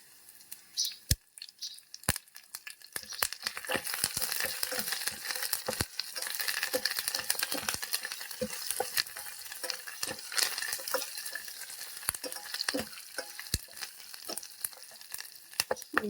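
Curry leaves hit hot oil while dal is being cooked, giving a steady close crackling sizzle scattered with sharp pops and clicks that keeps going throughout.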